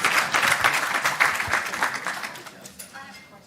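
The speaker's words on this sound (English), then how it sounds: "So we applaud that." Audience applause at a CISO panel during a cybersecurity conference in Charlotte, North Carolina: a dense burst of clapping from a room full of people that fades over a few seconds.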